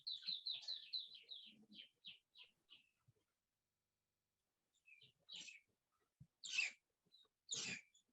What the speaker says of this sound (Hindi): दो तीन चिड़ियों की चहचहाने की भी आवाज आ रही है।